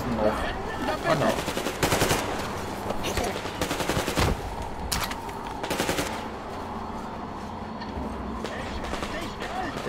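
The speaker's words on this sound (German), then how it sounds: "Wir schießen auf Anna." Gunfire in the Metro Exodus video game: repeated sharp shots and short automatic bursts crack out irregularly over a rumbling background, fairly loud, while someone talks over the action.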